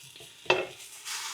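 Ground beef burger sizzling in a frying pan with a quick scrape of stirring, short and close, the frying hiss swelling again at the end.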